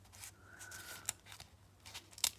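Scissors cutting out pieces of tea bag paper for decoupage, with a few quiet, close snips and soft paper rustles spread over a couple of seconds.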